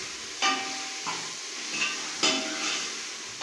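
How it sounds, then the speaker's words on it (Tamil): Ginger and garlic sautéing in a pan for mutton kuzhambu, a steady soft sizzle and hiss broken by several brief clinks of a spoon stirring against the pan. "இஞ்சி பூண்டு பச்சை வாசனை போகாது வதங்கணும்"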